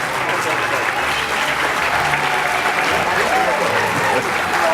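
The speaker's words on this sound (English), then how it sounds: "give them a great round of applause" Sustained, dense applause from an awards ceremony audience as a group of ladies stands to be recognised, steady and loud throughout with a faint murmur of voices mixed into the crowd.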